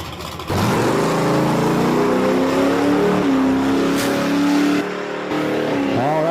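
A Chevy Nova drag race car makes a solo bye run at Virginia Motorsports Park, its engine roaring loud and steady as it accelerates down the strip, then tailing off near the end.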